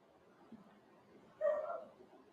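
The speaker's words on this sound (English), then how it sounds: "you hear my dogs in the background." Pet dogs bark and yip faintly in the background of a room, a brief muffled burst of barking with a smaller yelp just before it.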